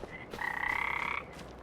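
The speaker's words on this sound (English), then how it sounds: "You can hear the frogs in the background." Frogs at a creek-fed farm pond in Farming Simulator 25, one croak clearly heard as a buzzy, pulsing call lasting under a second over a quiet outdoor ambience.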